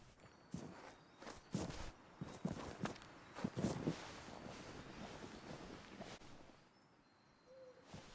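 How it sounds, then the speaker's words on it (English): Footsteps crunch in the Vigor video game, a run of distinct steps at mid distance over a soft wind-like ambience, with an owl-like hoot in the background and no talking. "I know y'all heard those footsteps too."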